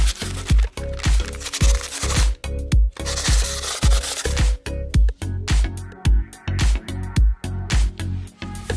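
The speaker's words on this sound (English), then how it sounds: "we're going to go ahead and hit that with some 220 sandpaper and some brake cleaner" Rusty, pitted control arm hardware from a 2nd-gen Toyota Tacoma being scrubbed with 220-grit sandpaper; close, rhythmic rasping strokes in quick bursts with short pauses between them.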